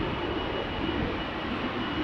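A KLM Boeing 777-200, registration PH-BQH and about 19 years old, departing Amsterdam Schiphol on flight 655 to Minneapolis: a steady, close jet engine roar with broad rumble that holds constant throughout, with no voices.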